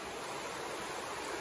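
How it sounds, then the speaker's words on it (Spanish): Water flows steadily through the Cantabrian countryside, a dense, even rush that holds at moderate loudness for the whole stretch with no voices over it. "El sonido del agua es"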